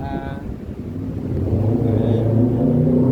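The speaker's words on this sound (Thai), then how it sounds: "เสียงรถซิ่งว่ะ" A loud hot-rod car revving nearby, a deep rumbling engine that builds and holds steady, with voices talking over it.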